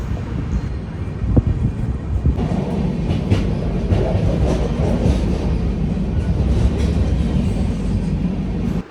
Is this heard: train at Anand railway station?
yes